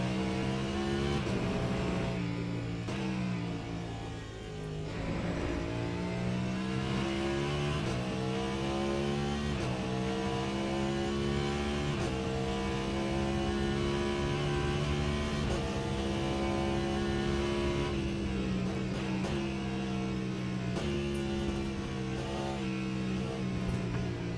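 Race car engine droning steadily in Le Mans Ultimate during an endurance race at Sebring, a loud sustained harmonic whine with small shifts in pitch as the car eases off and pushes on.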